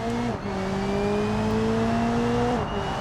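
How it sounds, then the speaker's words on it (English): A 1989 Ibishu Pessima car in the BeamNG driving game climbs steadily through the gears, its engine tone rising, dipping at each shift, then climbing again loud and close throughout. "And there we go, up through the gears we go."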